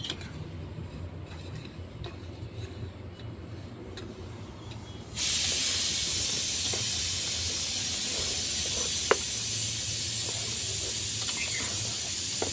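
Sago and potato paratha fries on a clay stove: a quiet stretch suddenly gives way to a loud, steady hiss of sizzling that continues to the end, with one brief sharp tick along the way.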